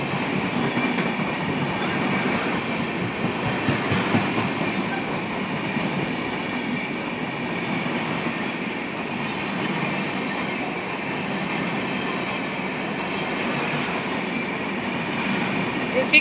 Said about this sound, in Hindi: ये ना रुकने वाली ट्रेन है